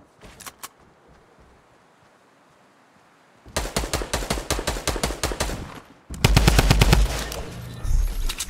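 Rifle fire in a Fortnite Battle Royale match: a few early shots, then a quiet pause, then rapid bursts of close, loud automatic gunfire, the second burst heavier and punchier.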